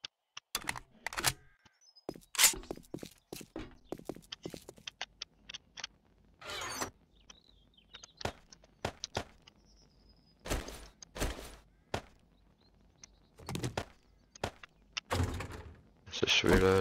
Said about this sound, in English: Let's reload the AK.